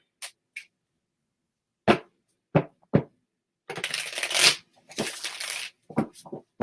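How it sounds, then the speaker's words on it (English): Tarot cards are shuffled by hand in close, crisp bursts: a few isolated snaps and taps, then two longer riffling runs, then more short clicks, with no voices. "we will try and feel where we should stop shuffling"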